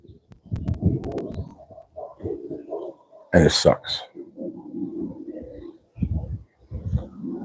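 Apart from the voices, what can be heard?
bird calling outdoors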